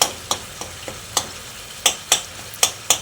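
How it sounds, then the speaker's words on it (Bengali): A spatula mashes boiled potato and pumpkin in a pan with about ten sharp, spaced scraping strokes over a quiet background. "এইভাবে কয়েকটা আলু কুমড়ো খুন্তির সাহায্যে একটু ম্যাশ করে দেবেন"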